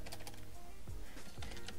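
Soft, rapid clacking of fingers typing on a computer keyboard, a short run of close keystrokes in uneven bursts with no talking.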